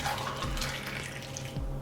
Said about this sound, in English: Ooh, that was a good pour.